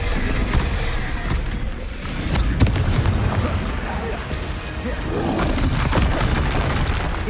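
Spell blasts in the Hogwarts Legacy video game, the Confringo fire spell among them, produce dense booming bursts and crackling explosions that run almost continuously through a noisy combat scene.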